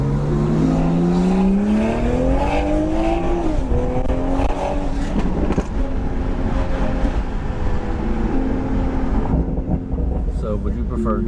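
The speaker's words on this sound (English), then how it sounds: "He let me launch the car and all." A car launches hard from a standstill, its engine note climbing steadily in pitch as it accelerates, loud and close inside the cabin, with people talking over the roar.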